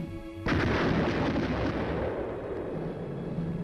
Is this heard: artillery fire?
yes